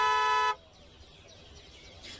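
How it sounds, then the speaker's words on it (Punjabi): A car horn in a Punjabi comedy film scene gives one loud, steady blast lasting about half a second. It cuts off sharply into a quiet background with faint, scattered chirps. "ਉਹ ਤੇਰੀ ਹਰਲੀਨ ਤਾਂ ਹੌਰਨ ਸੁਣਦੇ ਹਿਰਨੀ ਬਣ ਗਈ ਜੀ।"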